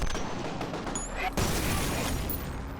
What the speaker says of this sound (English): I throw that grenade, I shoot the grenade, and it explodes.